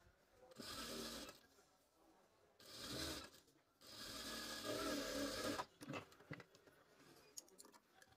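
Household sewing machine running a double seam on a salwar, with bursts of fast whirring stitching separated by short pauses, then lighter fabric handling and clicks near the end.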